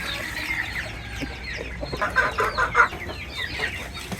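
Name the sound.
chickens clucking, mother hen with chicks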